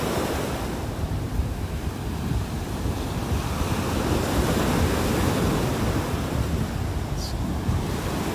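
Strong wind roars across a North Naples beach, buffeting the microphone with a loud, continuous rumble blended with breaking surf, steady from start to finish with no speech.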